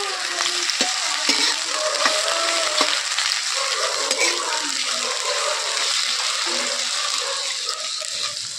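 Thinly sliced pointed gourd (potol) fries in oil with a loud, continuous hiss and sizzle, steady throughout with occasional clinks and faint scraping from stirring in the pan.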